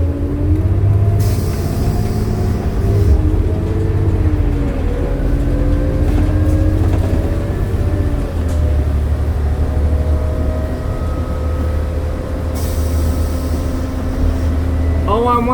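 A 2008 New Flyer D40LF city transit bus engine drones loudly and steadily throughout, with a rumbling low whine from the drivetrain and axle and occasional hissing bursts of air.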